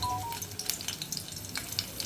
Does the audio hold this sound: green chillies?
yes